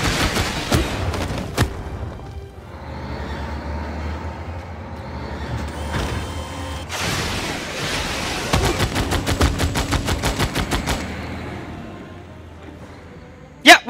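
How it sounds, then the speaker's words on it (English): Artillery bombarding the city of Argos in Civilization VI, with scattered distant blasts, then a rapid rattling volley of impacts near the end over a low rumbling bed of noise. "just to start bombarding that area here in Argos, because it's nearly destroyed"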